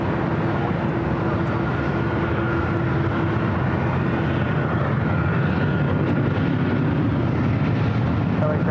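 An airliner at LAX, heard as a steady, continuous broadband roar of jet engine noise with a faint sustained tone running through it, holding an even level the whole time.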